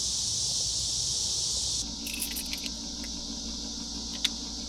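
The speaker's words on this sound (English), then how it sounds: "I don't know how you can live in an area with cicadas that loud." Loud cicadas droning outdoors, a steady high-pitched buzzing chorus that shifts in texture partway through, with small clicks and rustles over it and no talk.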